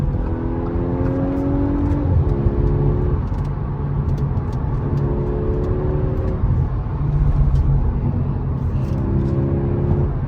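An Audi A5 driving at night, its engine droning steadily from inside the car, with pitch rising and falling through gear changes.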